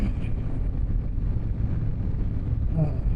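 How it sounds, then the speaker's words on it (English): Steady, loud low-frequency wind buffeting a microphone while a motorcycle rides along a toll road, a constant rumbling roar with no voices. "Another windy ride on the toll road home."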